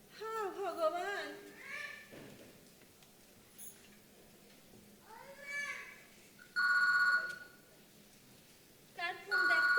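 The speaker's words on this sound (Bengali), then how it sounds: "কার ফোন দেখতো?" A telephone rings indoors in two bursts of loud electronic trilling, one lasting a few seconds and another starting near the end, with women's speech and sung voices around it.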